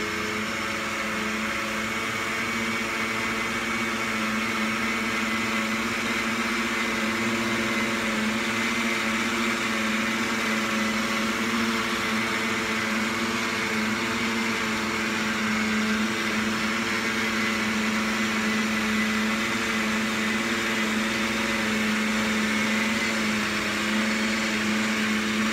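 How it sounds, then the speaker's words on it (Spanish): A blender whirs steadily while mixing impossible cake batter, a loud continuous motor drone that holds an even pitch throughout, with no talking over it. "Agarren la licuadora."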